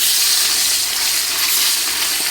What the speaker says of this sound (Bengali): এই দিয়ে দিয়েছি অনেকগুলো মাছ।